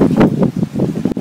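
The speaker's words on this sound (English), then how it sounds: "It's a little breezy." Gusty wind from Hurricane Sandy buffets the microphone and stirs trees and bushes outdoors, loud rumbling surges rising and falling in quick succession.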